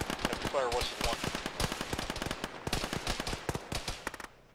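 Heavy gunfire in a military video game, with dense bursts of automatic fire and rapid repeated shots, loud and continuous, with voices talking intermittently over the shooting.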